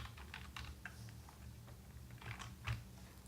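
Rapid clicking of typing on a computer keyboard, a steady run of light close keystrokes with a few slightly louder taps, no talking.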